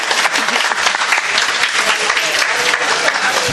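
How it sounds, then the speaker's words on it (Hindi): Loud, dense applause from the audience at a mushaira, an Urdu poetry gathering during Jashn e Bahar, rolls on steadily for several seconds with no voices over it. "एक बार जोरदार तालियां बजाइए इनके लिए।"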